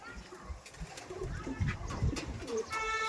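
Soft cooing of Andhra pigeons at a loft, a few low throaty coos in close succession, under quiet talk and light background noise.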